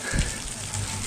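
Water drips and patters steadily down the weeping rock wall at Weeping Rock in Zion National Park, Utah, a close, continuous rain-like spatter with faint voices nearby.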